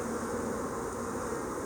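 Honey bees buzz steadily over a hive frame during queen rearing, a continuous dense hum that stays close and even throughout with no voices.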